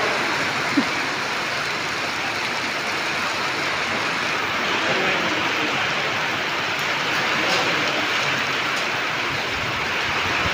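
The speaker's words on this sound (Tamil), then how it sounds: "மழை எப்படி பெஞ்சிட்ருக்கு பாருங்கள் செம்ம மழை அப்பா" Heavy rain falling steadily over Bhavani village, a dense continuous hiss that stays loud and even throughout with no talk.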